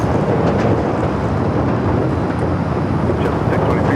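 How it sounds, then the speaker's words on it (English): A Delta Boeing 737 jet arriving at LAX from SFO produces a loud, continuous, deep roar that fills the air, steady and close with a windy rumble throughout. "Delta 737 coming up from SFO is what you hear."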